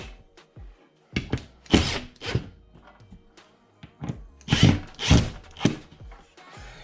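A power driver running screws into a wall for a wall-mounted fireplace, several short whirring bursts ending in thunks, close and loud with quiet gaps between.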